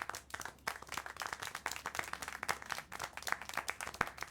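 Clapping within the video game Syberia: The World Before, a fast run of sharp hand claps close and fairly steady for a few seconds, with no talking over them.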